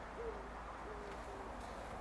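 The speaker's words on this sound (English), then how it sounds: "you can hear the doves cooing in the bushes" Doves cooing softly in bushes at a well-kept country park in South Shropshire, a few faint hooting calls at a distance over steady outdoor background noise.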